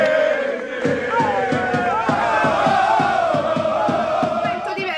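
A football team and its fans celebrate together, a loud sustained crowd roar with chanting and cheering, steady rhythmic clapping or stamping beating through it from start to finish.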